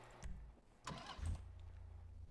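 Engine of a Sentinel car in a video game, fitted with the F-140R engine sound, with a short start-up burst followed by a steady low idle rumble, fairly quiet and close.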